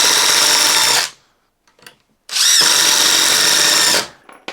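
Ryobi impact driver sinking 3.5 inch deck screws, two loud close bursts of about a second and nearly two seconds of high whirring and rattling, separated by a near-silent pause.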